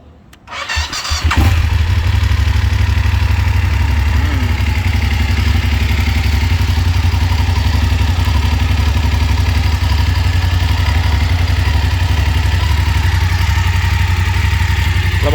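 A 2019 BMW F850GS motorcycle starts up with a short crank, then settles into a steady, loud, close idle that runs evenly without a break.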